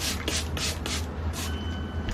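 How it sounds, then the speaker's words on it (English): Several short, quick bursts of a water spray bottle spritzing a wig with straight fringe bangs in rapid succession, close and hissy, over a low background hum. "I always just spray some water on them and then comb it."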